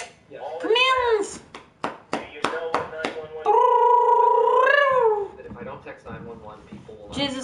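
A cat in the video game Bully meows in drawn-out, wavering cries mixed with rough purring, loud and close, while people talk over it.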